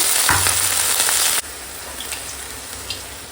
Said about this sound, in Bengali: এখন দিয়ে দেবো এই যে কেটে রাখা পেঁয়াজ কলি আর বেগুন